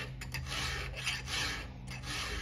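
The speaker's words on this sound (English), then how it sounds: "the file's rolled just every tooth, so I'll kind of rotate the file in my hand so I'm not wearing out the same spot" A round file rasps across chainsaw chain teeth in several quick back-and-forth strokes, close and fairly loud, with no talking.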